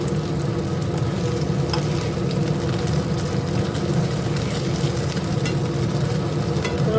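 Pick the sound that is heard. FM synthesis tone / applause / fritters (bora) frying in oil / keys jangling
fritters (bora) frying in oil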